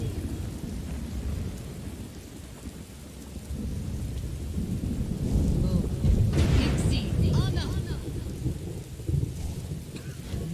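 Thunderstorm with steady rain in the video game Morrowind, a continuous rumbling downpour with low thunder swelling midway, while a person talks over it throughout.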